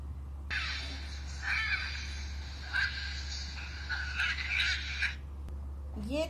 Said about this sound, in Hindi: ये था पैरट, मतलब तोता।